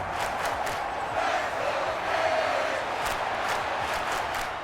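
A stadium crowd in Madden NFL 25 roars steadily on its feet during a third-and-seven play between the Raiders and Dolphins, a dense, loud wash of cheering and shouts with no pause.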